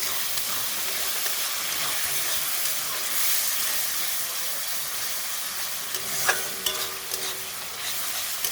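Masala of cumin and dried chilli powder frying in a pan after a splash of water, a steady steamy hiss and sizzle with stirring scrapes and a few louder clatters near the middle, close up and alone.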